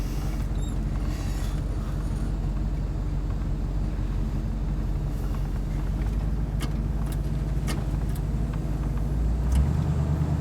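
A 1964 Buick Wildcat with a 425 Nailhead V8 pulls away, giving a steady, loud, deep engine rumble heard close up and continuously throughout.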